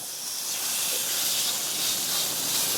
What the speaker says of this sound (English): we're going to sear this for 3 to 4 minutes per side